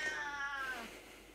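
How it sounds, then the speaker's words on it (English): A cat gives a single drawn-out meow close by, its pitch sliding downward before it fades into quiet. "shut up, cat."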